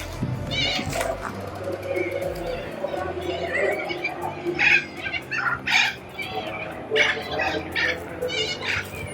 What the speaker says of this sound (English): Beautiful birds in Parramatta Park.